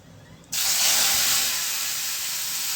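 Asafoetida dropped into hot oil already tempering with cumin, mustard seeds and fenugreek, giving a sudden loud hiss and sizzle that flares up close and then settles into a steady crackling fry.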